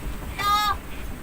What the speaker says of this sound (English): We got a little birdie visitor.